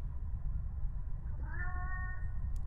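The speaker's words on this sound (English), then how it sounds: "I can finally hear the cat. It's meowing." A cat meows once in The Mandela Catalogue, a clear, drawn-out cry rising over a steady low rumble of background noise, with no one speaking.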